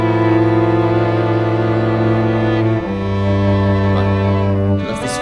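A string ensemble bowing sustained chords with a full, rich tone, shifting to a new chord partway through, close and loud with no talking.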